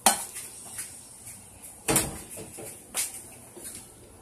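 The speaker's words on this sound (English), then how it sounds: "Put my dishes in the sink." Dishes clatter and clink near the sink in a few short bursts, with quieter rattles between them and no voices.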